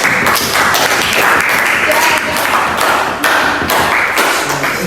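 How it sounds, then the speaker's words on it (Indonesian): Schoolchildren in a classroom clap together for a pupil stepping forward, loud rhythmic bursts of hand claps with short breaks that fill nearly five seconds. "Tepuk tangan dulu, Bayu mau maju."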